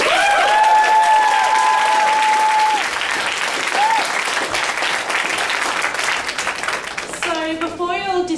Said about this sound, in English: Could we have another round of applause for all our speakers?